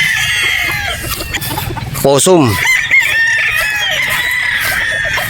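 Gamecock brood stags and battle stags gathered for a shipment to Cebu crow loudly and cluck near and far, one clear crow rising in the middle, while someone speaks over the flock.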